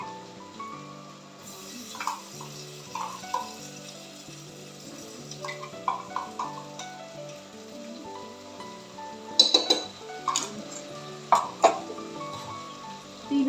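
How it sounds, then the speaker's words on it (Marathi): Coconut-tomato masala paste sautéing in a pan for prawn rice, a steady sizzle broken by occasional scraping stirs, louder bursts near the end, over faint tonal background music. "आता मसाला चांगला परतून घेते"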